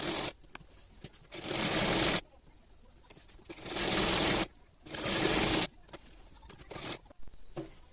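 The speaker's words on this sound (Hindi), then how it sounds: "अब इसके बाद नेट के चारों साइड हम कर लेंगे सिलाई।" Sewing machine stitching around all four sides of net fabric for a kurti suit, running in three distinct bursts of steady whirring separated by short pauses with small handling clicks between.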